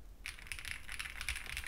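Quick, crisp key clicks rattle from an EPOMAKER TIDE 75 mechanical keyboard as someone types steadily at close range, each keystroke light and clear against a quiet background.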